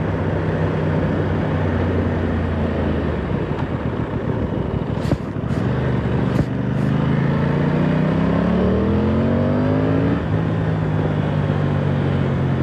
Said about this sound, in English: When you rev this bike, the engine is stunning.